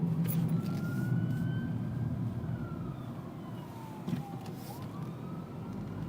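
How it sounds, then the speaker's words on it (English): A wailing siren rises and falls in the distance over a constant low rumble of traffic, faint but clear throughout. "I hear sirens in the background"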